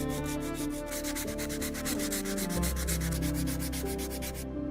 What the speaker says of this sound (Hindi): हम इसे 120 नंबर वाले सैंड पेपर के टुकड़े का इस्तेमाल करके साफ करने की कोशिश करेंगे।